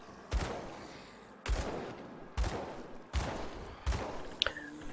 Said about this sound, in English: looks like a flintlock pistol, fires like a Beretta